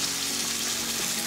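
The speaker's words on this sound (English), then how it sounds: "The tomato mixture gets cooked down separately in a pan I've got over medium heat here, filmed with a little bit of oil" Tomato mixture hitting a hot pan with a little oil over medium heat, giving a loud continuous sizzle and hiss with no one speaking.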